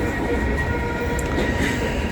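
Freight train rolling past at Elkhart, a loud, continuous rumble of wheels and cars close by, with faint squeals and clatter on top, steady throughout.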